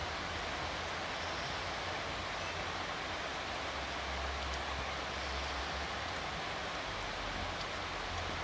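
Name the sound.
steady rain falling in California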